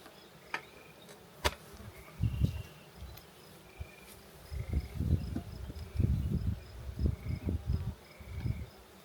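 Honey bees buzz outside a hive in an apiary on a warm evening, their low hum swelling and fading in repeated bursts as they fly close, with crickets chirping faintly in the background.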